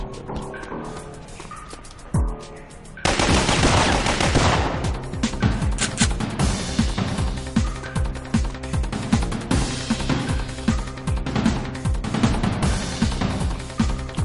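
Gunfire in a video game where a shotgun has just been picked up, a quieter stretch with a sharp shot, then from about three seconds a loud, dense run of rapid repeated blasts that continues to the end.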